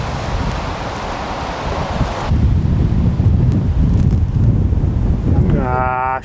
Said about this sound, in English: It's getting really windy now, so they probably can't even hear us